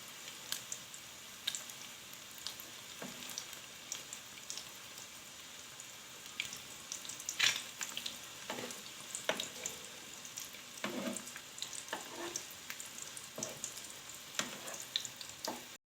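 Aloo tikki potato patties fry in a pan with a steady soft sizzle, broken by scattered clinks and scrapes of turning, fairly quiet and with no talking.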